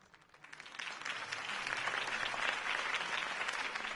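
Crowd applause at a campaign speech in the video game Batman: A Telltale Games Series, a dense, steady burst of many hands clapping that swells within the first second and holds loud to the end, with no talking over it.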